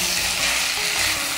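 Potatoes and taro frying with spices in a pan for a vegetarian shola kochu curry, a steady, close broadband sizzle that stays loud and even throughout with no talking.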